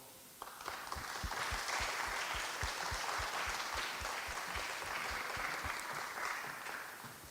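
An awards ceremony audience breaks into sustained applause for a winner, dense clapping that swells quickly after a soft start, holds strong and even for several seconds, then eases slightly at the close.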